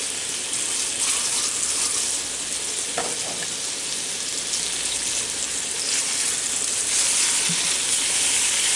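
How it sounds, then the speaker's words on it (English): Pork chops brown in a hot pan for a pork chops with potatoes dish, a dense, steady sizzle and crackle of frying with a few faint clinks partway through. "I have the pork chops browning just a little"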